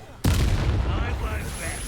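Confringo blast spell in Hogwarts Legacy, a sudden loud explosive boom followed by a sustained rumbling, crackling tail.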